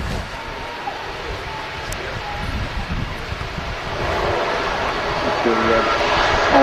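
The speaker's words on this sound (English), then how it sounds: "one of our noisiest aircraft on the way in, ATR 72 from Aer Lingus" Aer Lingus ATR 72 turboprop, operated by Emerald Airlines and arriving from Belfast, with a steady broadband engine roar that swells louder toward the end, mixed with wind noise on the microphone.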